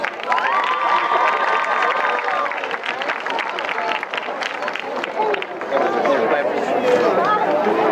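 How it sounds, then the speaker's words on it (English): At a high school graduation ceremony, graduates applaud their parents and families. Crowd applause mixes with cheering and lively chatter throughout, and voices ring out over the clapping. "graduates, please give your parents and family a round of applause."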